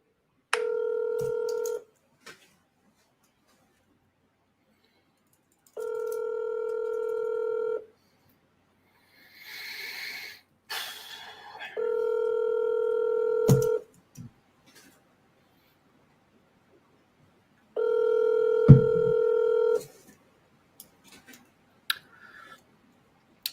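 Telephone keypad dialing tones during cold calling, four long steady multi-tone beeps spaced several seconds apart, with brief clicks and a short burst of handset noise between them, no talk.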